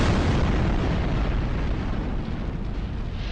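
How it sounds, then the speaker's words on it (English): A massive gunpowder explosion inside the Parthenon, a loud, dense, rumbling blast that fills the whole moment and slowly tails off, with no voices. "One shot penetrated the roof and ignited the gunpowder."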